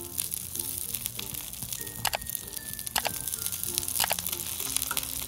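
A semolina (rava) snack frying in oil in a covered pan, with a steady, dense sizzle that runs throughout and several crisp crackling bursts as more oil is added on top.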